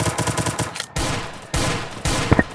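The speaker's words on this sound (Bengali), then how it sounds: "বারবার গুলি মারিচ্ছে" Rapid bursts of video game gunfire from a PUBG or Free Fire match, with several loud automatic volleys separated by brief pauses and one sharper shot near the end, with no talking.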